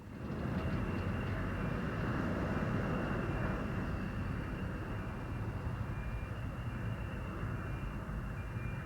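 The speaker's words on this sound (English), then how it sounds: "Note the classic landing technique employed by the Delta Dart, being held nose up to create aerodynamic braking." A Convair F-106 Delta Dart jet landing nose up for aerodynamic braking at an air show at Nellis, a steady loud roar of jet engine noise that holds at a constant level throughout.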